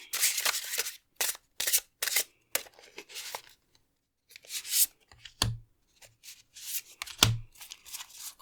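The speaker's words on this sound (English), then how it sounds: "thanks for your patience as I shuffled" A deck of oracle cards shuffled by hand in a quiet room, with repeated riffling and sliding bursts of papery rustling, close up and with no talk.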